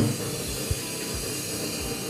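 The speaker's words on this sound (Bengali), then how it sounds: "গ্যাস স্টোভটা ধরিয়ে দেব" A gas stove burner lit beneath a pan for cooking fish, giving a steady soft hiss with one brief click partway through, no voices.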